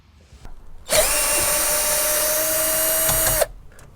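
An electric screwdriver runs steadily for about two and a half seconds while removing a rear headrest bracket on a Jeep Wrangler JKU, a loud continuous whine that starts and stops abruptly, with no talk over it.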